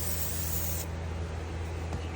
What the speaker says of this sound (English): Spray a little bit of oil in them.